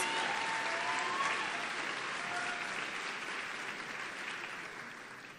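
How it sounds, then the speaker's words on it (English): An audience at a high school honors convocation claps steadily for scholarship students, a soft, even wash of applause that slowly tapers toward the end. "Let us applaud these students on their outstanding achievements."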